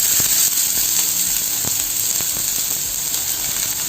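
Chopped onion fries in hot oil in a pan with a steady, bright sizzling hiss and a few faint pops and clicks. No one speaks.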